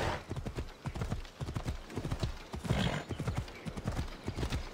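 Rapid, steady hoofbeats of a horse galloping in Assassin's Creed Odyssey, loud and close with a whinny mixed in and a faint voice now and then under the pounding rhythm.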